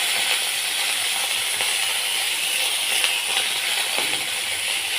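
Two handfuls of curry leaves hit hot oil with roasting urad lentils for karuvepilai thuvaiyal, producing a loud, continuous sizzling hiss sprinkled with light crackles and no talk.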